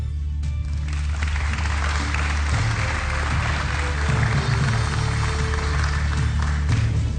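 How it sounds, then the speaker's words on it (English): An audience at the Nairobi Governor's Debate applauds to welcome candidates onto the stage, producing a steady, fairly loud wash of clapping with a low hum underneath, lasting several seconds without speech. "we request the audience to applaud and welcome candidates to the stage"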